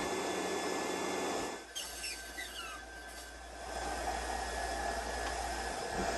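Steady loud mechanical whir of an air compressor filling an airgun to 4,500 psi, running continuously with a brief dip in level and a few faint clicks partway through before resuming.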